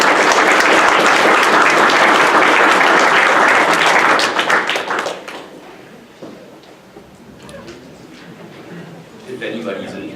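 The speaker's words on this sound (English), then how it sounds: "we'd like to give a big round of applause" Applause from attendees of a waterbody and watercourse regulation presentation swells loudly for about five seconds, then fades to scattered claps and quiet room sound with a few voices.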